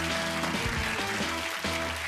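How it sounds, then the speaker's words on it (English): A TV game show studio audience claps together, a dense wash of applause mixed with a tonal music sting, continuous for about two seconds. "Give them a round of applause"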